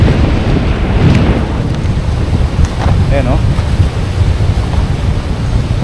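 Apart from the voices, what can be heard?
strong river current rushing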